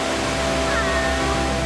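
Steady rushing roar of the 215 m Sandiequan waterfall on Mount Lushan, China, a constant broadband wash of falling water heard at a distance beneath soft tonal background music.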